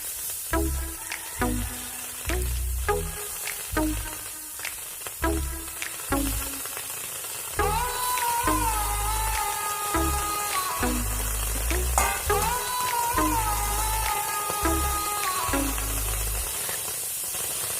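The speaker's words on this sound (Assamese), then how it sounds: "ইয়াত এনেকৈ ফুলখিনি দি মই ভালকৈ ভাজি ল'ম" Amita flowers (papaya) sizzle and crackle as they fry in hot oil in a wok, with a steady loud hiss and repeated stirring clatters rising over it.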